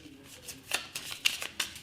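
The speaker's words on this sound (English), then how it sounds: "you're going to shuffle up the cards" Quick, crisp riffling bursts of cards being shuffled, several short flurries in a row, close and fairly quiet.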